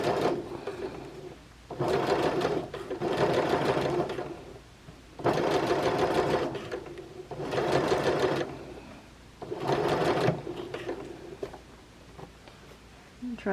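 A sewing machine stitches fabric in four separate bursts of rapid, close mechanical whirring, with brief quiet pauses between runs.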